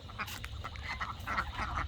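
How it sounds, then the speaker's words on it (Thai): Ducks quack in quick, repeated bursts at a farm where geese are also kept, the calls close and fairly steady over a low background rumble. "เป็ดกระห่านมันจะมาคู่กันนะลูก"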